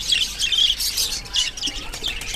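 Lovebirds, doves and budgies call together in an aviary, with dense, overlapping high chirps and tweets close by and no talking.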